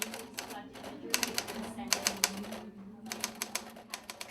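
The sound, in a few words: typing on an old manual typewriter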